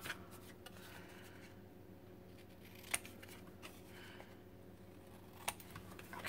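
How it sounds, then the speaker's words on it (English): A pair of scissors snips the corners off stamped paper gift tags, giving a few short, crisp cuts amid soft paper rustle in a quiet room. "I'm going to snip off the corners where the stamp was here with just a pair of scissors"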